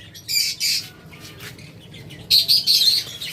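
Red-eyed lovebirds kept in large numbers for sale chirp and squawk in shrill bursts, nearby and fairly loud, with two busier clusters of calls separated by a quieter stretch.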